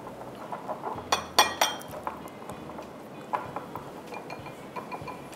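A spoon clinks and scrapes against a bowl while tikka masala and oil are mixed into a marinade: a cluster of sharp close clinks early on, then lighter, scattered taps.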